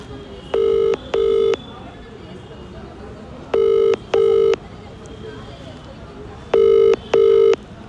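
An unanswered outgoing phone call rings back in paired tones, three double rings spaced evenly and loud against a quiet background with faint hiss between.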